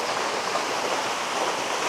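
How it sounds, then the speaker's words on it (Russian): A small waterfall in a park in Dalat pours steadily, giving a dense, even hiss of falling water that stays constant with no voices or other sounds. "Водопад даже такой есть."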